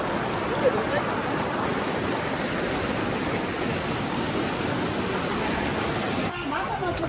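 Steady rushing water fills the scene, a broad continuous wash with no pauses, close and fairly loud, easing slightly near the end.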